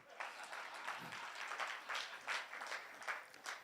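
Quiet, fairly distant audience applause at a comedy show follows a comedian's call for clapping, a soft continuous patter of hands that swells and dips in waves with no talk over it.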